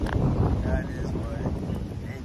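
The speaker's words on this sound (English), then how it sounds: "the wind is really loud" Strong beach wind buffets the microphone in loud, continuous rumbling gusts, and a person talks under the roar.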